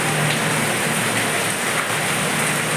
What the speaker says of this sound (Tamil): மழை பெய்யுது, சோடு ஒரே மழை